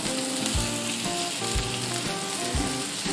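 Whole grain mustard sauce sizzles and fries steadily in a hot pan, a dense continuous crackle with periodic low thumps, close and fairly loud with no talking.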